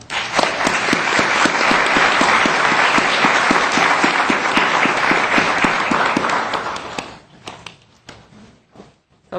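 A crowd at a health talk gives the speakers a round of applause: dense, loud clapping for about seven seconds, then fading into a few scattered claps and room noise.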